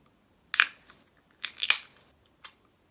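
A can of Carlsberg Pilsner beer is cracked open up close: a sharp metallic click and hiss, then a longer crackling burst and a final small snap, alone in a quiet room.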